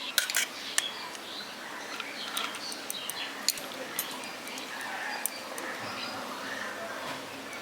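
Cooked rice is spooned into a ghee-greased kadai for a village-style prawn biryani, heard as a quiet series of light metallic clinks and scrapes against a soft background hum.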